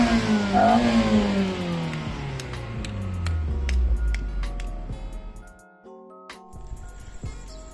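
A Toyota Altezza with a 3S-GE Beams engine revs up and down close by, the engine note rising and falling before it drops back toward a steadier run.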